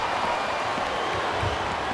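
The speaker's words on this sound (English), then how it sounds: "This capacity crowd is making their opinions known tonight." A capacity crowd in a WWE wrestling arena during a backstage no-rules mixed match keeps up a steady, dense roar of cheering and reaction, a continuous wash of voices with scattered clapping and no clear gaps.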